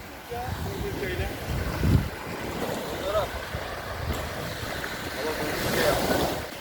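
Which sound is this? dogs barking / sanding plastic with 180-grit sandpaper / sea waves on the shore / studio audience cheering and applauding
sea waves on the shore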